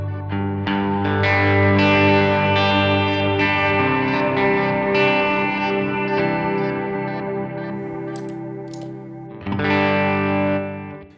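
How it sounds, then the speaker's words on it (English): Electric guitar through a glitch reverb effect on a Line 6 HX Stomp strums sustained, heavily effected chords with a wide shimmering reverb, bursts of warbling glitchy artifacts, then a fresh strum near the end. "Glitch reverb."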